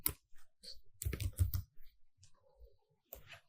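Computer keyboard keys tapped in short irregular bursts, close and fairly quiet, with brief pauses between clusters of clicks while installing MySQL on Windows.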